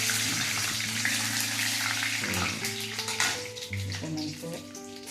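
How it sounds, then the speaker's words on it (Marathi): Peanuts frying in hot oil in a pan for a village-style sabudana breakfast, giving a loud, steady, dense sizzle with some clatter, no talk. "शेंगदाणे त्याच्यानंतर तेलात जाईल चला थोडं भाजून घेऊया"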